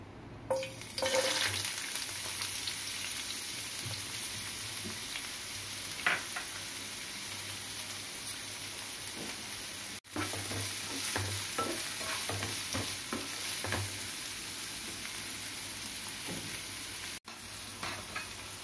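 Chopped onions fry in oil in a pan for veg Manchurian, an Indo-Chinese starter. A steady close sizzle runs throughout, with repeated scraping and clinking of a spoon stirring the pan and no speech.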